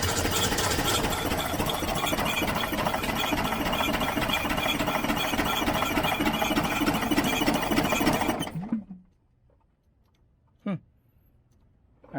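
A 1967 VW Type 3 Squareback air-cooled engine runs loud and steady during a compression test, with a fast mechanical clatter, then is shut off abruptly, leaving near silence with a couple of faint clicks.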